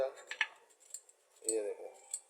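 A spoon scraping and clinking against a container while scooping sugar, several light metallic taps spread over the moment, with a voice talking in between.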